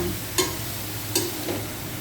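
Sautéed string beans stirred in a pan, with a steady close sizzle of frying and a few light scraping clinks from the stirring.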